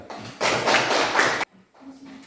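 A classroom group gives a single round of applause, a burst of dense hand clapping lasting about a second before it cuts off abruptly, leaving a quiet room.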